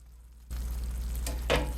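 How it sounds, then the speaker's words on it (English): Steady sizzling and crackling of enchiladas frying in a hot skillet, starting abruptly and continuing close up with a brief louder flare near the end. "Hear the sizzle?"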